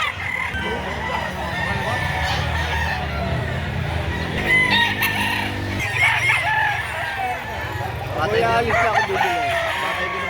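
Chickens cluck and a rooster crows amid busy market noise, with people talking in the background.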